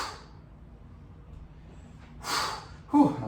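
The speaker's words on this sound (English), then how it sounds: "Breathing out every time I pull in." During a home ab workout, a forceful exhale on a crunch comes as a breathy rush of air, followed by a sharper snorting burst, both close and fairly quiet.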